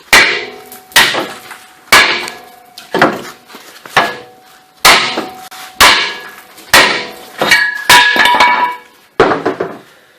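A big hammer strikes the lower ball joint on a 2001-2005 Ford Explorer in about ten sharp, ringing metallic whacks at a steady rhythm, loud and close, with no talking.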